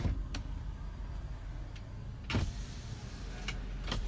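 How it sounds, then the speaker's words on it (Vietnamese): Power windows on a 2006 Toyota Innova run up and down, a low continuous electric motor whir with sharp clicks as the glass stops, close inside the car with no talk. "kính điện của chiếc xe lên xuống ok"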